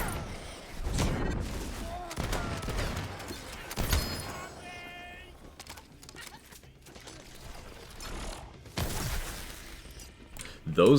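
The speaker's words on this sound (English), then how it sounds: "Those goblin shotguns hit so hard, I actually clenched a little when I heard it." Goblin shotguns fire in the video game Tiny Tina's Wonderlands, with several sharp, heavy blasts scattered among busy game noise and clattering effects, some blasts loud and close.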